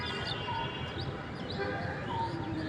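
Birds chirping among the trees around Dhanmondi Lake in Dhaka, faint scattered tweets over a low, steady background of city hum.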